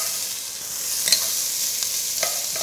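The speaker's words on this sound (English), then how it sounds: "into that pan, I'm going to add our chopped onion and finely chopped garlic and chilli." Chopped onion, finely chopped garlic and chilli sizzle steadily in a pan with a broad, even frying hiss, marked by a few brief spatters and stirring scrapes, with no voices.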